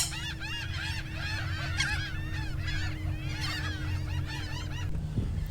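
Geese honk in a dense, overlapping chorus at a South Texas boondocking site, with repeated nasal calls over a low steady hum and light wind noise.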